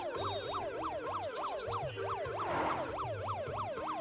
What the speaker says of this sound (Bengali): যাচ্ছে যাচ্ছে যাচ্ছে যাচ্ছে অ্যাম্বুলেন্স